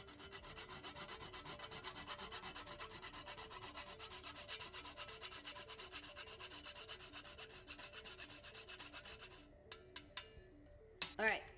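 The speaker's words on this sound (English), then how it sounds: "Grate in some nutmeg and try not to grate my finger at the same time." Whole nutmeg is grated by hand for a chicken and leek pie, giving a steady rhythmic rasping scrape that repeats quickly and evenly before stopping with a few clatters at the end.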